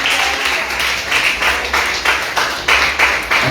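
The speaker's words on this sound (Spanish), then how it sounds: "Denle un aplauso al Rey" A church congregation claps in a steady rhythm, loud and close, with rhythmic bursts repeating across the stretch.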